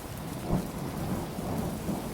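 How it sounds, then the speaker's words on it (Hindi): Steady heavy rain pouring down with a low rumble of thunder swelling briefly near the start, a continuous dense wash of rainfall with no voices. "कितनी तेज बारिश हो रही है"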